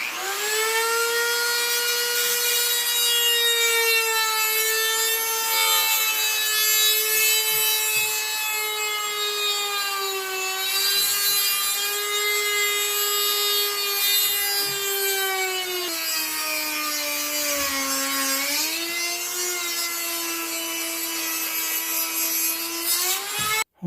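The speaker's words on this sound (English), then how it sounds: "I'll Dremel a hole for my wire." Dremel rotary tool drilling a hole into a deer antler tine, a steady high whine running continuously up close, dipping slightly in pitch under load midway through.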